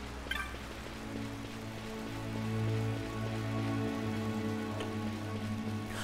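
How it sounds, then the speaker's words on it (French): Rain falling in the video game Final Fantasy XII, a soft steady patter and hiss under a low sustained musical drone, fairly quiet with no talk. "Enfin, il pleut."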